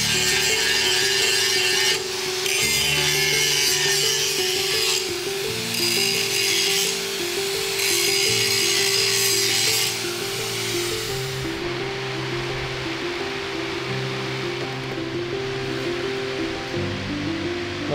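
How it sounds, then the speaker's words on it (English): Steady, loud power-tool grinding strips rust off a captured WWI German 7.7cm Feldkanone 96 field gun in a workshop, a continuous whine with shifting pitch and brief surges as the grinder bites the metal. "We'll grind all that off."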